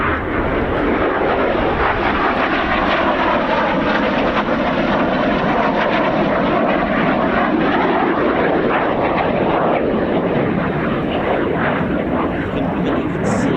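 A Eurofighter Typhoon makes a high speed pass at the Royal International Air Tattoo at RAF Fairford, a loud, continuous jet roar with a sweeping shift in pitch as it races by, holding strong the whole time.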